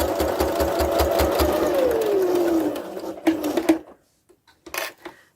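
A sewing machine stitches across the pleats of a fabric face covering, running loudly for about three seconds before slowing to a stop, followed by a few brief handling clicks and near-silence.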